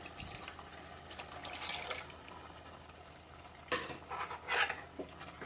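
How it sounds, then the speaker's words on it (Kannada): Water splashes into a pot of dal with spices, cooked over a wood-fired stove, amid clinking utensils and a soft steady hiss, followed by a few sharper metallic knocks near the end. "ಸ್ವಲ್ಪ ನೀರು ಸೇರಿಸ್ತಾ ಇದ್ದೀನಿ"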